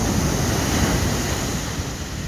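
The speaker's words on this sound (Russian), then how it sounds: "Если у нас тут такие сегодня волны бушуют" Sea waves along the coast of Japan surge in a dense, continuous roar, loud and close, with some wind buffeting and no voices.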